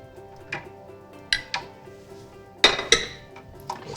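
Hard plastic and glass parts clink and clatter as they are fitted together, a handful of sharp knocks spaced irregularly in a quiet room.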